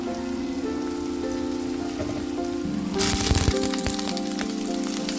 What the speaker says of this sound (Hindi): सब्जियां भी साथ में डाल देंगे तो साथ में ही फ्राई होगा